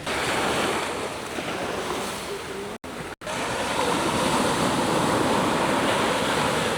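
Sea waves wash continuously onto a beach at El Nido, Palawan, in a broad steady roar with some wind across the microphone and a brief dropout midway.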